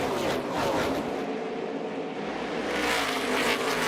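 NASCAR stock cars roar away at the green flag at Bristol Motor Speedway, a dense, continuous engine roar from a full field, loud and sustained with a slight swell near the end.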